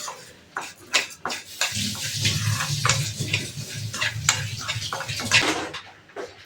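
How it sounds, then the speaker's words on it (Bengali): Vermicelli frying in ghee in a pan at home, a steady soft sizzle with scraping stir strokes and occasional clinks of the utensil, close and continuous. "দেখো সিমইটা আমি এখন ঘি ভেজে নিচ্ছি"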